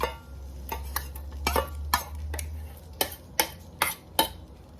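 Utensil scrapes and taps through thick akara bean batter as vegetables are stirred in a bowl, irregular strokes up close, with a low hum underneath and no talking.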